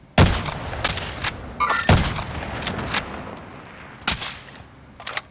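Sharp, separate gunshots in Call of Duty: Warzone, a handful of loud cracks spaced irregularly with short echoing tails, some close and some more distant.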